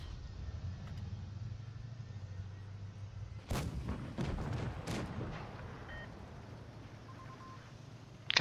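Tank cannon shots in World of Tanks Blitz: a sharp loud blast followed by a cluster of quicker booming reports, then rumbling engine noise and faint distant fire.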